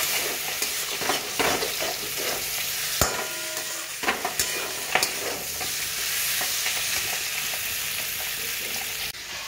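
Spiced vegetables fry in a pan with a loud, steady sizzle, while a spatula stirs and knocks against the pan in irregular scrapes and clacks.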